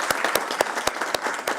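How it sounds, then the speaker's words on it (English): A crowd applauding steadily at a professorial inauguration, dense clapping with sharp individual claps popping out, fairly close and lively throughout. "can we give another round of applause?"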